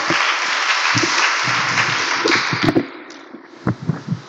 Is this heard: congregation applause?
yes